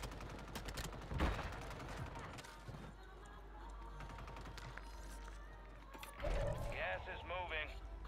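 Video game gunfire comes in bursts of rapid shots and impacts, with a louder cluster near the end, mixed under frequent talk from players.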